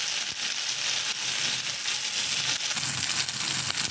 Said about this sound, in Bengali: এই তেলের মধ্যেই আমি এই কাশ্মীরি লঙ্কার গুঁড়োটা দিলাম